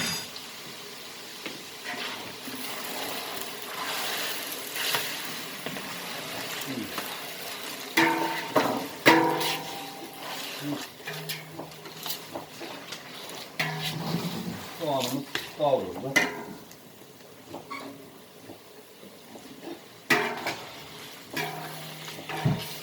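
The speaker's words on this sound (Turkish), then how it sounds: "Soğanımızı, doğramış olduğumuz soğanımızı ilave ediyoruz." Chopped onions for Turkish türlü vegetable stew sizzle in hot oil while a spoon stirs and scrapes the pan, with occasional clinks and a voice talking at moments.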